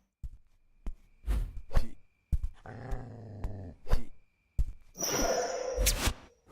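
A dog growls in the 2D platformer video game Null Transit, low rumbling snarls between sharp percussive game hits and thumps, with a brighter burst of effects near the end.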